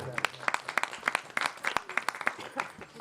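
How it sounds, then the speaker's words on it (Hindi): Applause from an audience at a devotional Jagran gathering, uneven scattered claps with sharp individual hits, moderately close and quiet. "एक बार इनके लिए जोरदार ताली बजा दो"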